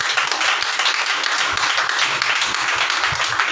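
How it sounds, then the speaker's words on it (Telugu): A congregation at an all-night prayer meeting claps loudly and densely, a close, continuous patter of many hands with some rhythmic beats showing through. "కొట్టను చప్పట్లు గట్టిగా."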